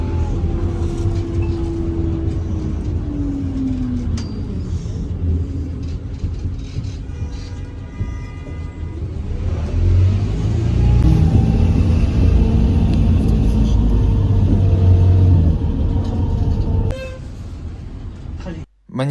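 Inside a city bus in Almaty, a steady engine rumble and road noise fill the cabin, with a horn toot and shifting drivetrain tones as the bus moves; a voice talks over it.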